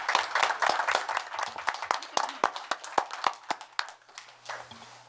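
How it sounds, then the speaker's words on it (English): A town board meeting audience applauds a Scout troop with a burst of dense, close clapping that thins into a few scattered claps before fading out. "Let's give these young people a round of applause."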